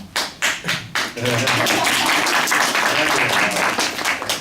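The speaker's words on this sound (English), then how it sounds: "It's not that hard to clap for 10 seconds as they walk up." Scattered claps start off the clip, then fill in as steady group clapping at an informal school election event. Close and fairly loud, with a few voices mixed in underneath.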